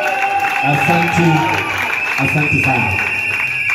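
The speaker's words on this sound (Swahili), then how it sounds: "wapi makofi kwa Yesu" Church congregation clapping and cheering in a sustained wave, with a voice speaking over the crowd and keyboard tones ringing through.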